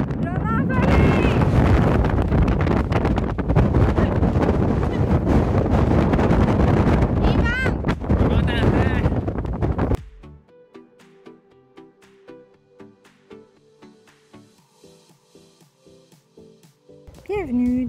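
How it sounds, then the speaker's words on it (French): Strong wind roars across the microphone in a windy mountain pass in the Gaspésie mountains, loud and continuous for about ten seconds, then drops away to a much quieter stretch before a brief gust returns at the end. "Présentement dans un couloir de vent!"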